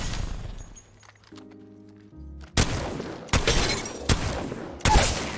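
Gunfire in Apex Legends: after a quiet stretch of mechanical clicks and a low thunk, four loud, sharp bursts of shots crack out in quick succession, close and alone.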